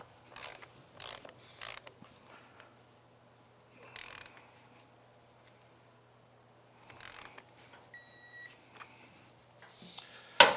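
A torque wrench tightens the brake nut on a Kawasaki KLX110 pit bike drum brake to 47 foot-pounds, giving short bursts of ratcheting clicks between quiet pauses, plus a brief series of faint beeps near the end.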